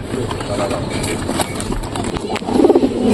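Pigeons cooing close by during pairing, low soft coos growing louder toward the end, mixed with other birds and background voices.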